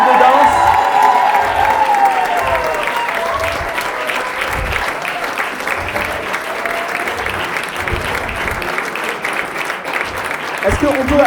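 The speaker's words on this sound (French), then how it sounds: "Est-ce qu'on peut applaudir aussi Abondance" Sustained audience applause with some cheering fills a Christmas celebration hall, steady and dense throughout, rewarding a dance collective, with voices mixed in the crowd.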